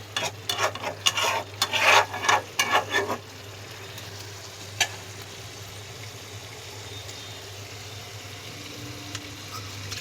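Red chili stirred into hot oil in a home kitchen pan, with a burst of scraping stirs and crackling sizzle up front, then a softer steady fry and one more clink alone.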